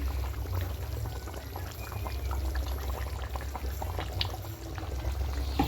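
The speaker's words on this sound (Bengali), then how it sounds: "এবার নামানোর আগে একটু ঘি দিয়ে দেবো" Ghee is poured into a simmering chicken curry, giving a soft, steady liquid pour over a low bubbling and a constant low hum, close but quiet, with no voices.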